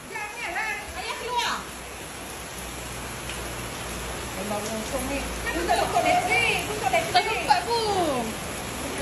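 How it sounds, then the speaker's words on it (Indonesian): Heavy rain pours steadily outdoors during a storm, a constant broadband hiss running the whole time beneath children's voices and nearby talk. "sekarang ni kan tengah hujan lebat"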